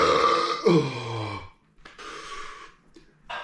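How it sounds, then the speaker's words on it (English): A man lets out a loud, drawn-out burp that breaks into a croak, followed after a pause by a couple of shorter, fainter belches and breathy sounds. "And got a couple of burps in there."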